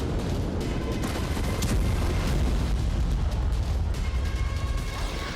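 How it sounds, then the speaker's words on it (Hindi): Beirut port explosion of 4 August 2020 in news footage: a continuous heavy low rumble with booming bursts runs loud throughout, dense and sustained rather than a single isolated blast. "चार अगस्त की दोपहर बैरूत पोर्ट पर धुएं का एक ऊंचा गुबार उठ रहा था और अचानक एक जोरदार विस्फोट हुआ।"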